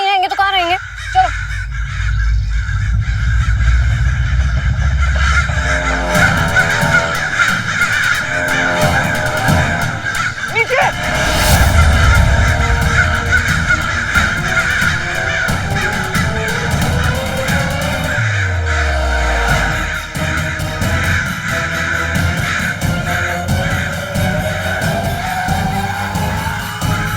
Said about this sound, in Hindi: अचानक से हमारे आसपास इतने सारे कौवे कैसे आ गए?